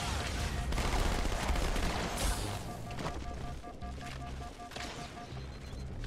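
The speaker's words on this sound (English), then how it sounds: "Who's shooting me?" Rattling automatic gunfire from a Halo 2 firefight, fairly quiet and distant, with bursts clustered early and sparser shots and booms later.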